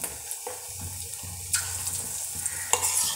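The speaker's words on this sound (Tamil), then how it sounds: "ஒன்றொன்னா போட்டு பொரிச்சு எடுத்துக்கலாங்க" Eggs frying one at a time in heated oil, giving a steady sizzle with bursts of crackle and a few louder spatters, close and alone with no voices.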